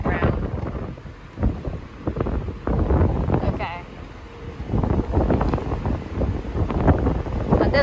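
Strong wind gusting along a Tokyo street in the morning, a steady broad roar buffeting the microphone in waves with no talk over it.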